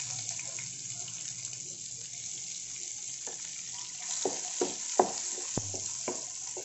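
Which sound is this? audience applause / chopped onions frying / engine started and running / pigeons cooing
chopped onions frying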